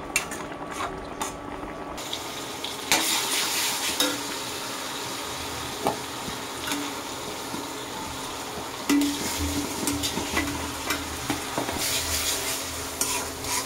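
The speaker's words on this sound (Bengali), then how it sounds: "আবার রসুনটা ভালো করে কষাই নিই" Garlic frying on an electric stove, with a steady sizzle and repeated stirring scrapes in the pan that carry on throughout, fairly close and with no talking.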